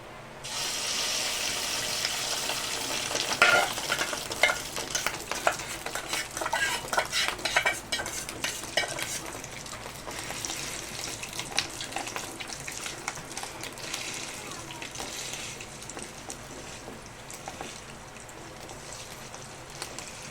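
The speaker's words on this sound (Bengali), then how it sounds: "এই যে এখানে তেলটা আমার গরম হয়ে গেছে পুরো ডিমটা আমি দিয়ে দেবো একবারে" Fish roe frying in hot oil, a continuous crackling sizzle with dense spattering pops that is loudest early and settles to a steadier hiss, heard close with no talking.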